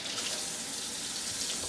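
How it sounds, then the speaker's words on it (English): Water pouring steadily from a sink faucet as hands are washed, a continuous close hiss and splash with no voices over it. "we're gonna wash our hands first"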